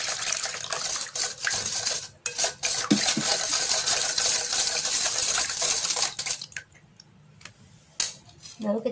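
Water with 1.5 teaspoons of salt, about 300 ml, is stirred in a pot for tempeh. A steady metallic scraping and swishing sounds close up, then breaks into a few separate clinks and strokes near the end.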